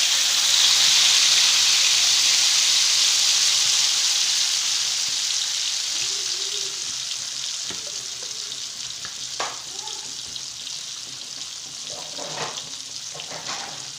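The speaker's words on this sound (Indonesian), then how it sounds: "sekarang bumbu yang tadi yang sudah aku blender, dan aku tinggal masukkan ke minyak lah ya, yang sudah mendidih ya." Blended spice paste hits boiling oil and fries with a loud, steady sizzle that slowly settles, followed by a few scattered stirring clinks and scrapes near the end.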